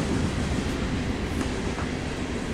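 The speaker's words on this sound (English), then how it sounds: "This train is going from Miami" Brightline passenger train at a station on the Miami to Orlando line, a steady loud rolling rumble with faint rail clatter and no voices.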